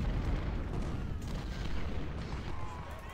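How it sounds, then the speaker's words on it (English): Civil War cannon fire in the strategy game Ultimate General: Civil War, a rumbling mix of booming artillery and scattered gunfire rolling on continuously at a moderate, somewhat distant level. "their cannons are turning around trying to shoot at my cavalry"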